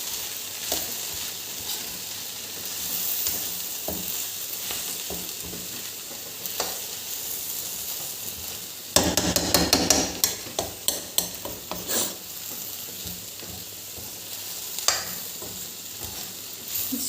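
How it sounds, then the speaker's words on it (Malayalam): Beans and ivy gourd thoran with grated coconut being stirred in a pan over a steady frying sizzle, with a burst of quick scraping and clattering strokes in the middle, no voices. "ശരിക്കും ഒന്ന് മിക്സാക്കിയിട്ട് അടച്ച് വെച്ച് നന്നായി വേകുന്നവരെ വേവിക്കുക"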